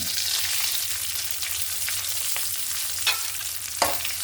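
Whole spices—three bay leaves, peppercorns, cardamom, cinnamon and cloves—sizzling in hot oil, a steady close hiss with a couple of sharper pops near the end.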